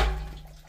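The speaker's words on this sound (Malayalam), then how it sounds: "ആ അത് വെള്ളം വരുന്ന." Running water in a rural Kerala hillside home near Kanthalloor, a steady close wash of flow that starts loud and gradually eases over a brief moment, with no voices.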